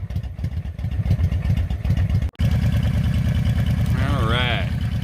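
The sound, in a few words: Honda Shadow 750 motorcycle engine idling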